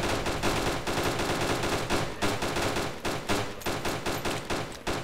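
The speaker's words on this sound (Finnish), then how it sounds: "Kuka sitä ampuu? Me ammutaan." Rapid bursts of video game gunfire on the Chernarus map crackle almost continuously, dense automatic volleys with brief gaps, loud and close.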